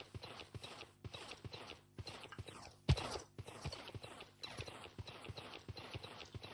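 Horses trotting in Minecraft, a steady run of light clip-clop hoofbeats at moderate distance, with one sharper louder knock partway through.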